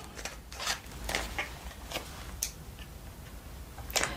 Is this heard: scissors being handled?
yes